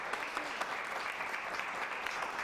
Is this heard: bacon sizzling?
no